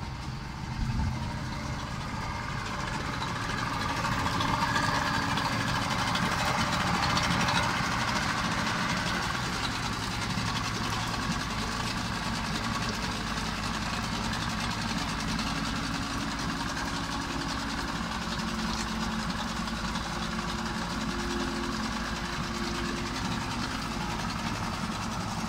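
A Yamaha 50 hp two-stroke outboard boat engine idles at nearly 1500 rpm on a Kontra 450 boat with a low, continuous rumble and faint mechanical rattle, holding an even pitch throughout with no voices.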